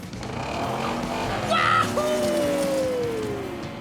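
Cartoon monster truck speeding up, a revving engine rising in pitch with a whooshing pass and a brief tire squeal, with a steady motor rumble throughout.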